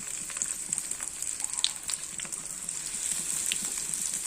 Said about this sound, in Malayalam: ഇനി നമുക്ക് എണ്ണയ്ക്കകത്തിട്ട് പൊരിക്കാം